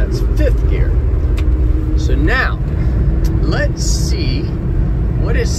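Daihatsu Hijet kei truck driving up a steep hill in fifth gear, its engine giving a steady, close drone with road rumble as someone talks over it.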